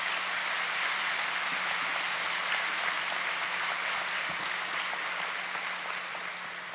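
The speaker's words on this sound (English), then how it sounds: "Let's give them a round of applause." Steady, even applause from a high school graduation audience honoring the faculty, sustained and fairly distant throughout, with a faint low hum underneath.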